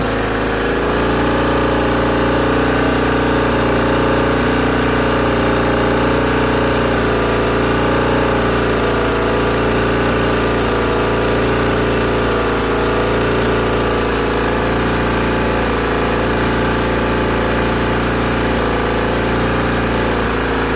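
A steady, loud mechanical drone of a motorcycle engine driving an air compressor with the throttle opened, holding an even pitch throughout with no talking.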